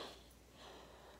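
A pet dog snorting and breathing close by, a faint, short snuffling burst in an otherwise quiet room.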